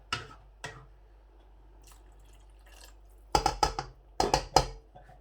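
Water poured into a pot of white chickpeas being cooked, heard as a few soft drips and then a quick series of splashy pours, close and otherwise quiet.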